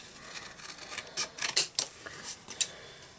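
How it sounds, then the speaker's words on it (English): Long-blade scissors cutting freehand through card, a series of close, crisp snips and rasping slices in an irregular rhythm against a quiet background. "get our scissors out, and I'm just going to cut this freehand"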